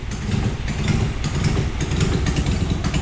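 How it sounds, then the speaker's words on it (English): A Mazda RX-7 engine runs with a small exhaust leak, giving a loud, continuous, rough and sputtery idle with slight fluctuations, close by and with no other sounds. "The exhaust is a bit farty."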